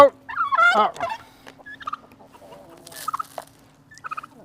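A turkey gobbles near the start, a loud rapid warbling burst, followed by scattered chirps and clucks from other birds over a low steady hum, at a farm house in Punjab.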